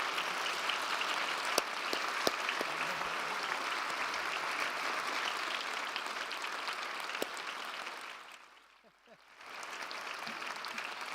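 A hall full of people applauding steadily at a business conference as a royal guest departs, a dense even wash of clapping that dips briefly near the end, then swells again.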